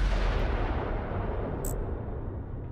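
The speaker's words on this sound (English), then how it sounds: "so our long range cannon, so it takes a little while to charge up each time" Long-range ship cannon in the space combat game Fractured Space, a sustained, loud, rumbling blast with a deep low-end roar that holds steady before tapering slightly, with no voices.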